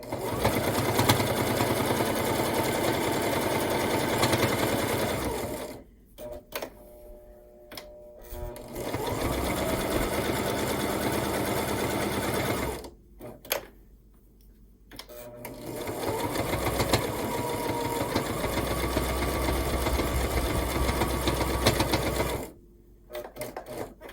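Sewing machine stitching binding onto a micro mini Valentine quilt, running in three long steady bursts with brief pauses between them, loud and close with no talking.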